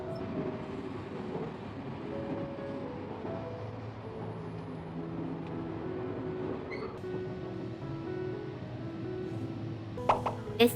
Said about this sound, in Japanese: 列車は通過駅を順調に通過していきます。